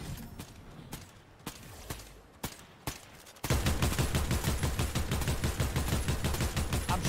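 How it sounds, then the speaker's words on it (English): Gunfire in Fortnite: a handful of scattered single cracks give way to a sustained, rapid burst of automatic fire that runs loud and dense to the end. "I'm shooting the rock out"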